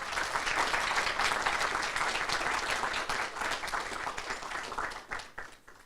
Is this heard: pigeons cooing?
no